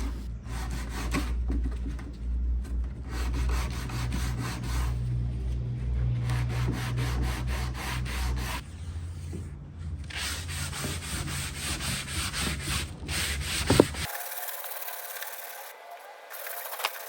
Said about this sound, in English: I'll do a little bit more sanding